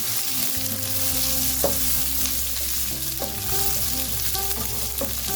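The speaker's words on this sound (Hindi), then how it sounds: "एक दरमियाना छोटा प्याज, उसे भी चॉप कर लिया है और उसको भी हम यहाँ पे भून लेंगे" Chopped capsicum and a medium small onion fry loudly in a pan, a dense continuous sizzle close up with a few clinks of the utensil on the pan and a low steady hum underneath; no one speaks.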